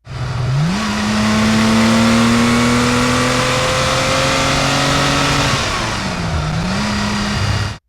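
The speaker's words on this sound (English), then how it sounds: "you hear that spinning up of the engine" A classic Porsche 911 RSR tribute with its original 2.4 engine revs up hard and holds a loud, rising drone, then eases off and briefly revs again before cutting out.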